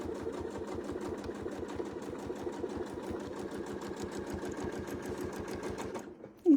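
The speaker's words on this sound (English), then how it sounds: "And let's sew." Sewing machine stitching a quilt, a fast, even, rapid stitching rhythm running close and steady for several seconds before stopping abruptly.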